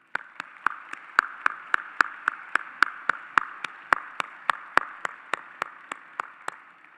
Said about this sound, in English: Please join me in congratulating them with a round of applause